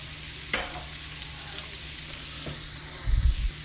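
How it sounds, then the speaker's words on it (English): Tomatoes, wine, olive oil and garlic bubble and sizzle in a covered pan in a steady hiss, with a couple of soft utensil taps and a brief low rumble near the end. "You basically boil it under cover until the liquid evaporates and thickens and concentrates."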